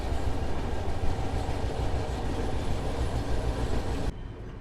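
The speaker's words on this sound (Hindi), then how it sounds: "हैदराबाद हजरत निजामुद्दीन दक्षिण एक्सप्रेस को हम लोग ओवरटेक कर रहे हैं" The Sanghmitra Express passenger train rumbles steadily past the Hyderabad–Hazrat Nizamuddin Dakshin Express as it overtakes it, a loud close roar with rattling wagons and rhythmic wheel clatter that drops away sharply at the end.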